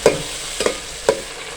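Masala for aloo matar pulao fries in a pot with a soft constant sizzle, broken by three close scraping stirs of a spoon.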